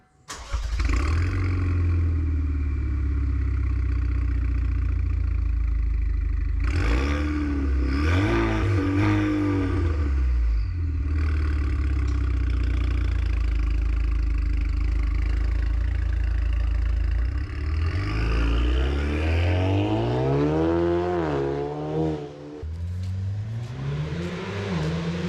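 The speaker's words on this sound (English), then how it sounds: "then you can hear what the Renick Performance exhaust system sounds like." A Cadillac ATS fitted with a Renick Performance exhaust starts up, idles with a deep steady rumble, and is revved several times, the pitch sweeping up and back down in loud, close bursts.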